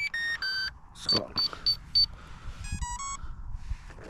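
Electronic beeping from a Flywing FW450 Airwolf RC helicopter during setup, a few short high-pitched tones in quick bursts with a faint talking voice underneath.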